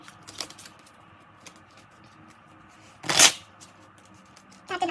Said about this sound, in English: I always drop my cards when I'm shuffling.